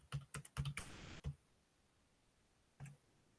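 Someone types a web search on a computer keyboard: a quick burst of close, crisp key clicks, a pause, then one last keystroke, in an otherwise quiet room.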